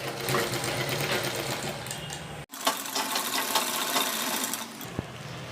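A sewing machine stitches the armhole seam of a blouse, giving a steady, close mechanical whir. It pauses briefly midway, then runs on at an even pace.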